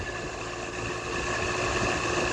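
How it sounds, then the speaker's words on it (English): An air conditioning compressor runs as a steady, continuous mechanical hum with a low engine-like drone, moderately loud and unbroken, with no voices. "Actually, I do hear my compressor running."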